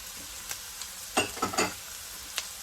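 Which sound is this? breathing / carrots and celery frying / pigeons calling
carrots and celery frying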